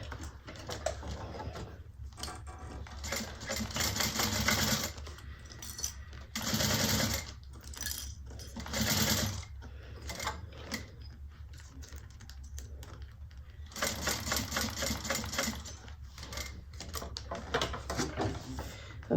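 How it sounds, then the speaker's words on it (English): Domestic sewing machine top stitching a fabric bag with a zipper, a steady fast mechanical patter running in several bursts with brief pauses between, close and loud with no talking. "And then we're going to top stitch."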